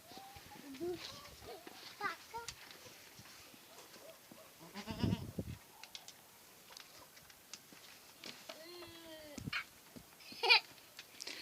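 Goats bleat several times at close range, short wavering cries scattered among soft voices and light rustling.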